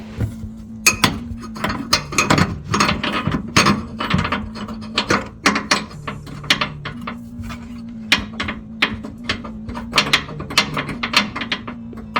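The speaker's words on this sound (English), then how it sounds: "now you're going to want to lower the jack now that you've got everything tightened" Car jack being lowered under a Land Rover LR3, a close, steady run of metallic ratcheting clicks and clanks with a low mechanical hum beneath, continuing for about twelve seconds with no talk.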